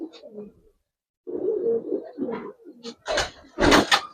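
Pigeons in a loft give a few soft, throaty coos and rustles, close by. A short pause falls between the first calls and a louder, fuller burst of cooing at the end, with no speech.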